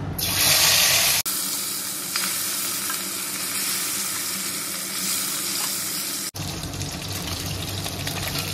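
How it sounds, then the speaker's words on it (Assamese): Loud, steady sizzling of fish frying in hot oil, a continuous crackling hiss up close, with two brief abrupt breaks. "এতিয়া বাকী থকা মাছখিনি ভাজি ল'ম।"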